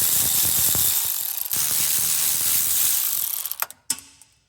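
A ratchet wrench removes 13mm bolts from a car's shifter assembly during a Hurst Pro billet shifter install, with rapid close clicking pawl ratcheting for several seconds, then a couple of sharp metallic clunks as it stops.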